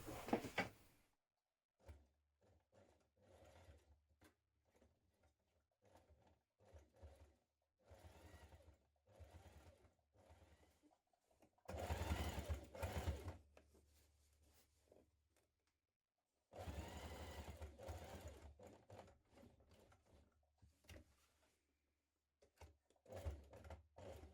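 A domestic sewing machine stitches seam lines on a Tracey jacket, running in short bursts and two longer loud runs with pauses between, close and clear with no talking.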